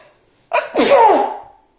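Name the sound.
sneeze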